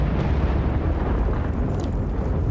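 A rifle grenade blast in Battlefield 1943 rolls out as a loud, continuous low rumble of explosion with no talk over it.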